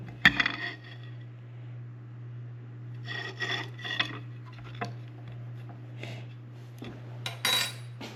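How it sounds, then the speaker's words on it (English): Ignition coils pulled from a John Deere pony motor during a distributor rebuild: intermittent metallic scraping and rasping bursts with a light clink, close and alone over a steady low hum. "And now we'll pull the coils out."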